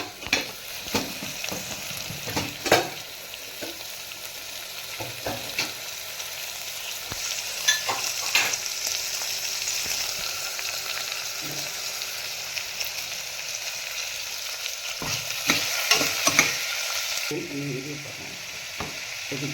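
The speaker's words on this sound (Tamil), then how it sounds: "இதெல்லாம் நான் இப்போ வதக்க போகிறேன்." Ingredients for a baby jackfruit gravy sauté in a pan, with steady sizzling and frying and intermittent clanks and scrapes of stirring throughout.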